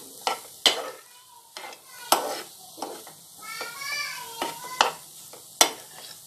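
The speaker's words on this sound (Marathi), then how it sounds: "इथे लिंबाचा रस घालणार आहे आणि पुन्हा असं मिक्स करून घ्यायचं" Cucumber salad with its seeds removed is stirred after lemon juice goes in, giving a series of sharp, irregular spoon knocks against the bowl, with faint high whistling tones in the background.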